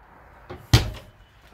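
Oven door on a Starcraft Autumn Ridge 25TH toy hauler RV's kitchen, opening with a soft thump and then shutting with a sharper, louder clack, close by and alone.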